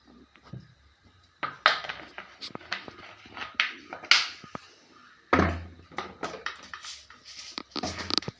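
Pots and pans clank and knock in a home kitchen while someone clears space to fry, with scattered metallic bumps and clatters, some sharper, spread unevenly across the moment.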